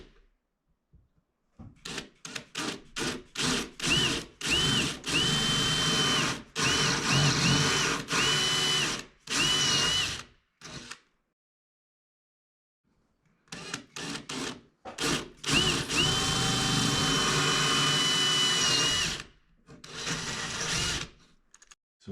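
A power drill whines in repeated short bursts, close by, drilling through bathroom tile, with a long pause midway before another series of drilling bursts.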